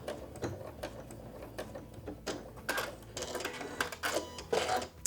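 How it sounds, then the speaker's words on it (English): A sewing machine runs a lock stitch at the edge of a quilt facing, in short irregular bursts of rapid mechanical clatter, close and fairly quiet. "now we're gonna do a lock stitch and trim our threads"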